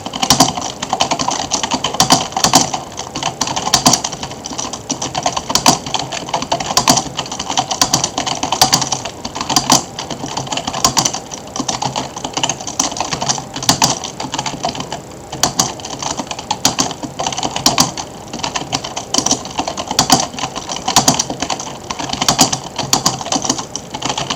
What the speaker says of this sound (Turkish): hızlı yazma yarışması